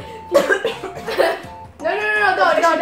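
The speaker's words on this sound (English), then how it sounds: "I was coughing." A person coughs several times in quick bursts, close and loud, after eating spicy ramen, with speech and a little laughter mixed in.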